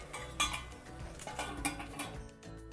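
A metal lid clinks against a pot of raw tomato curry, giving a few bright, close knocks spread across a couple of seconds with soft kitchen rattling in between.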